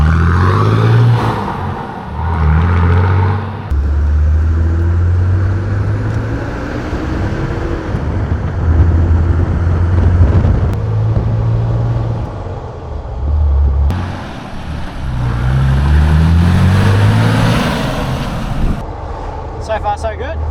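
Car with a newly fitted turbo under way on a test drive, its engine droning and rising through the gears amid heavy wind rush, with a person talking over it throughout.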